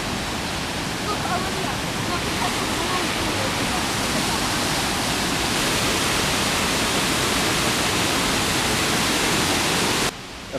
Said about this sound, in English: Okay, we've made it to the waterfall.